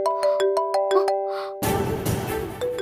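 A mobile phone rings with an incoming call from a mother, its bright melodic ringtone repeating in short pulses for about a second and a half before a sudden burst of broad noise takes over.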